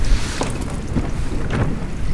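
Fast-flowing water rushing into a 2 litre bottle at a wild camp on Bleaklow Stones in heavy rain, a steady loud broadband gush with wind-like rumble throughout and no talk.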